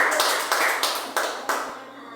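A church congregation applauds during an evening service, brisk clapping filling the room with a few sharper accents before fading out near the end.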